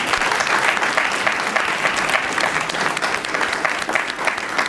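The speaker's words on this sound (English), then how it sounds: "Can we give a nice round of applause to our panelists today?" A large audience applauds panelists at a panel discussion, with loud, dense, sustained clapping that fills the whole stretch without letting up.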